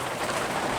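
Heavy rain falling steadily, a dense continuous hiss of drops on surfaces that fills the short clip evenly with no voices over it.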